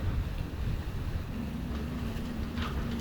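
Strong wind buffeting a microphone at a coastal revetment construction site in downtown Port Royal, a steady, loud low rumble throughout, with no speech.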